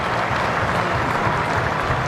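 A cricket crowd at an Australia versus South Africa Test match applauds a batsman's shot, steady, dense clapping from far off that runs through the whole moment.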